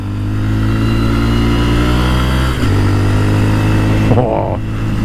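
A 2022 Honda Monkey motorcycle engine pulls hard while riding in fifth gear at around 50 mph, a loud, close, steady drone that dips briefly as the gear changes and then climbs again.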